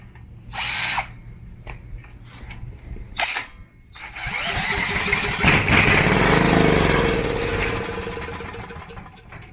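Small Coleman portable generator engine cranking and briefly kicking over, with a few short mechanical bursts giving way to a loud, sustained rough engine roar that swells and fades toward the end.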